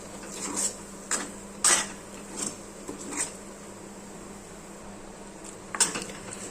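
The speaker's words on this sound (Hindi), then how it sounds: "अब हमें लगातार चलाते हुए इस दाल की बहुत ही अच्छे तरीके से भुनाई करनी है" Moong dal halwa is stirred and roasted in a kadhai, making a few separate scraping and clinking strokes of the utensil against the pan over a quiet background.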